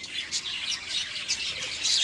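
Budgerigars in a breeding aviary chirp and squawk in a busy overlapping chorus, close and continuous, with no voices.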